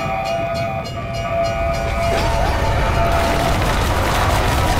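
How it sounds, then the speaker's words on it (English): A train rolls in on the Mauer der Toten map of Call of Duty Black Ops Cold War Zombies on PS5. It makes a steady, loud rumbling drone with sustained tonal whistling, growing denser and fuller as it arrives, with no talking. "And the train spits out zombies."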